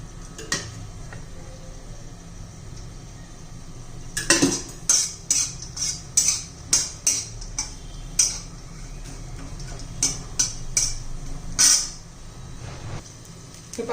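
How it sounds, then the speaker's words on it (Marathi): Dry coconut roasting with a little oil in a pan on a home stove for a Maharashtrian mixed vegetable dish, heard as a series of sharp metal spatula scrapes and clinks against the pan, irregular and fairly close. "आता खोबरं भाजून घेऊया. थोडंसं तेल घालूया."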